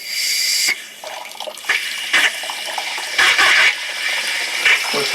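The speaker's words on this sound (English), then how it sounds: "So now we're going to open the hose bib," Water and trapped air burst in uneven spurts from a newly opened outdoor hose bibb after the line was drained, sputtering and hissing loudly with short breaks between gushes.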